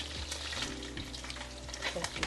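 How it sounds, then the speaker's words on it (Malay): Catfish sizzling steadily in hot oil, a dense crackling hiss with occasional louder pops and spatters, close up. "Tip goreng ikan keli ni, kita biarkan dia betul-betul garing"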